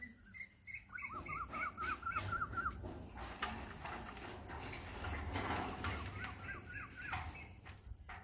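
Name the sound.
birds chirping at dawn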